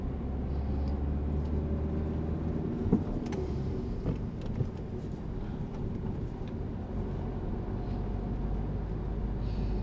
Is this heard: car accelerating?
yes